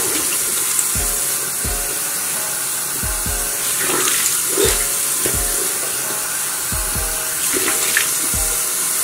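Tap water runs steadily into a bathroom sink during a face wash, with a series of low thumps and splashes from hands cupping and splashing water, close and fairly loud with no talking.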